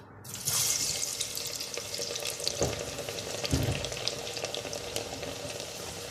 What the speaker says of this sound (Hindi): मोटे मोटे लहसुन कट कर लिए, इसको मैं ऑयल में डालूंगी।